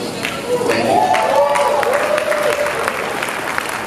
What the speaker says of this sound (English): Please keep clapping for him